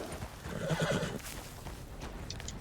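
A horse in Red Dead Redemption 2 gives a loud, wavering whinny that rises and then fades, followed by quieter shuffling and hoof movement, with no talking over it.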